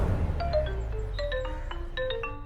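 A phone ringtone plays a bright, repeating electronic melody of short beeping tones, fairly close and steady, announcing a call from the office over a low background hum.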